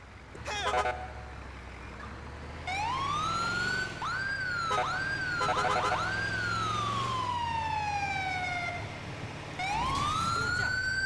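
Wailing electronic ambulance siren from a GTA 5 emergency-vehicle mod, sweeping up and down in long loud cycles with short staccato yelp bursts between, continuous over game road noise.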